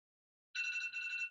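A workout timer buzzer sounds after silence, a single electronic tone lasting under a second with a brief dip midway, faint and alone.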